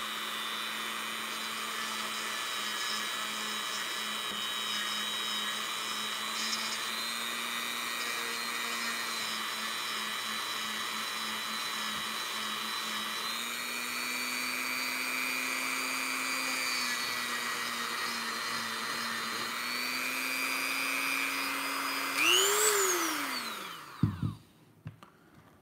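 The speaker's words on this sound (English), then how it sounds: "This is a variable speed Dremel." A variable speed Dremel rotary tool whines steadily on a low setting, a close, sustained motor hum that rises slightly in pitch partway through, then spins down and stops near the end; no talking.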